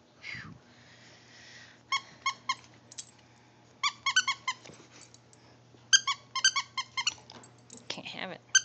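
A dog chomps a squeaky toy ball, producing repeated high, sharp squeaks in rapid clusters separated by quiet gaps, with some soft chewing and mouth noises in between.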